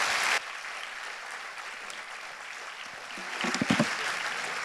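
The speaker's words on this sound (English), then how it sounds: "Je vous remercie de les applaudir très fort pour la contribution." Audience applause at a panel event on the Israel-Palestine two-state question, a dense steady wash of clapping that carries on throughout, with a brief burst of louder, closer claps near the end.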